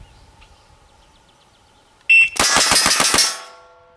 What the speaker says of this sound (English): .06 seconds for six shots out of a single action revolver